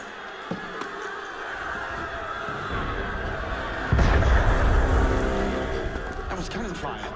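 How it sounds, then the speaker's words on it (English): Distant rumbling and bustle in Assassin's Creed Unity, then a heavy booming cannon blast midway that rolls on as a deep, loud rumble, with voices speaking. "That was cannon fire."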